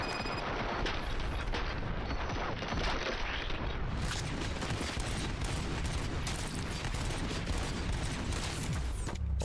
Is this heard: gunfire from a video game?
yes